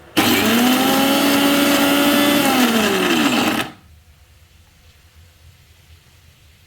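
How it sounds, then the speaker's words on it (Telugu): A kitchen mixer grinder whirs loudly while blending ginger and garlic with salt into paste, a steady high-pitched motor drone with a falling pitch sweep near the end before it abruptly stops, leaving quiet room tone. "మిక్సీ వేద్దాం అన్నమాట"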